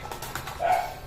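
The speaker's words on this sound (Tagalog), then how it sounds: "Ingay-ingay naman ng aso." A neighbor's dog barks a few short, sharp times at moderate distance, the last bark slightly longer and louder, over a low background murmur.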